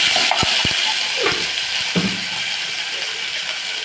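Onions and ginger fry in a hot pan, making a loud, steady sizzle that holds throughout, with a few sharp clicks and scrapes near the start.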